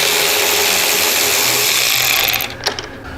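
A power tool backs out the lower bolt on a Harley-Davidson Road Glide side wing, running as a steady close mechanical whir for about two and a half seconds before stopping with a light clank.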